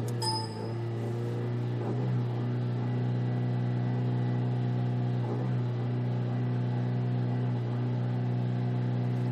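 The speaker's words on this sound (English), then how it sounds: "we're going to put it at maximum throttle, and then it's going to try to engage the clutch" Ford Fiesta or Focus with a DPS6 dual-clutch transmission, its engine held at maximum throttle during a clutch relearn, gives a steady, close, droning engine note with strong low harmonics for the whole stretch.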